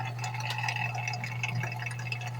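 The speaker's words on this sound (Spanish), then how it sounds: "Escucha cómo se oye hirviendo." A constant low hum with bubbling and gurgling water boiling inside a faulty Titán N160 electric water heater, steady and close, with no talking.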